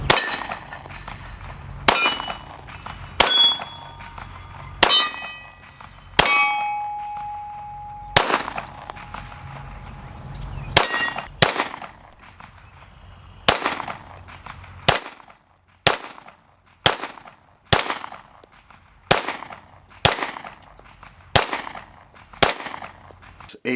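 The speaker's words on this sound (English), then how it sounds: "that is the range shooting" Springfield 1911 Operator 9mm pistol firing at an outdoor range: loud, sharp reports in an irregular string, then a quicker steady series of evenly spaced shots, each with a ringing metallic tail, and no talking.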